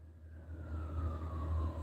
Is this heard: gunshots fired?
no